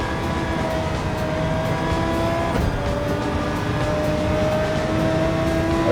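Touring car engine in a racing video game holding a steady, loud high-revving drone through a lap on a high-speed ring circuit, with a brief shift in pitch midway as it passes a C7 and pushes on at full throttle; no talk.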